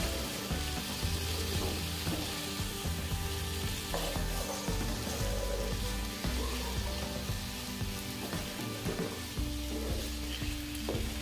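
Masala for matar paneer fries in a pan with a constant loud sizzle, and stirring scrapes and clinks now and then over a dense, bubbling hiss.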